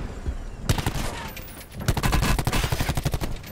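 Rapid video-game gunfire in a shooter match using an x4 scope, two dense bursts of sharp repeated shots, loud and close, with a brief pause between them.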